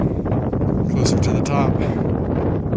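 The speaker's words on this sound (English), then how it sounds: "Very windy." Strong wind buffets the microphone on a hilltop trail on Antelope Island in the Great Salt Lake, a loud continuous roar and rumble, with a person speaking briefly over it.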